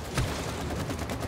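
Rapid bursts of video-game gunfire from It Takes Two, a steady dense crackle of shots running through the whole short moment without pause.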